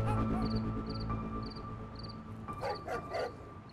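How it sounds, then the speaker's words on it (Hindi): A foreign-breed dog barking in short repeated yips at a steady rhythm, mid-distance, over a sustained musical drone with some voices toward the end. "ए कुत्ते नु वेख, ओए वलैती कुत्ते ने घना खांदन"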